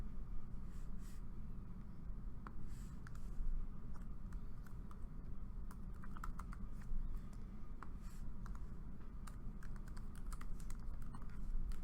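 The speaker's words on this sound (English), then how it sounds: "They can type on the document within their Schoology window." Rapid, irregular clicking of computer keyboard keys, close and fairly quiet over a low steady background hum, continuing through the whole stretch with brief pauses between bursts.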